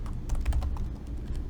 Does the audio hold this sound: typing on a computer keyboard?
yes